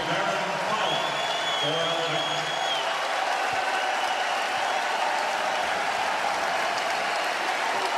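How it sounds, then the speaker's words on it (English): A basketball arena crowd at an Alabama versus Auburn college game claps and cheers in a steady, broad roar, with voices carrying through the noise. "Well-deserved round of applause for that man right there."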